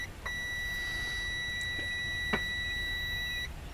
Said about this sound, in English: And we instantly get a beep.